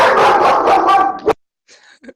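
A dog lets out a single sharp bark right after a burst of voices, followed by a faint yip or whimper in near silence.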